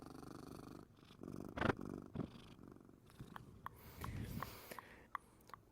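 Joe, a pet cat, purrs softly and close by in a quiet room, a faint rhythmic rumble broken by small clicks and shuffling noises.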